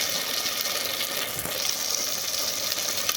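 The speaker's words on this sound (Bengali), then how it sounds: "নুন হলুদ মাখিয়ে মাছগুলো দিয়ে দিয়েছি। মাছগুলো ভেজে নেব।" Whole river fish rubbed with salt and turmeric fry in hot mustard oil, giving a steady, dense sizzle that fills the entire stretch with no pauses and no talking.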